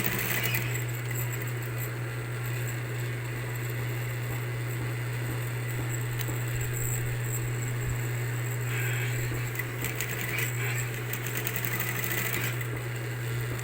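An electric sewing machine stitches a pillowcase with a steady, continuous mechanical hum and rapid needle chatter that runs unbroken throughout at a moderate, close level.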